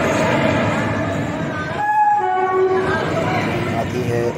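A passenger train pulls into Mahoba Junction station in Bundelkhand, its horn sounding with steady tones over a continuous loud rumble of wheels and carriages, with people talking nearby.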